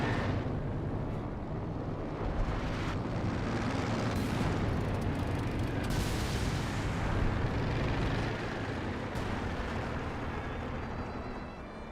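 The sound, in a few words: fragmentation bombing run explosions in Company of Heroes 2 video game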